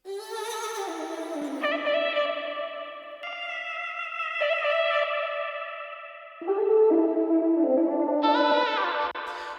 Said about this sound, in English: there's a lot of reverb, a lot of delay on these